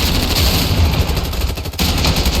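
Rapid automatic gunfire from a video game battle in Ravenfield, a dense, loud and continuous stream of shots with a brief dip near the end, no talk over it.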